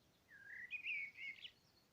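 A single bird calls once: a short, bright chirping phrase rising and warbling for about a second, clear against a quiet background.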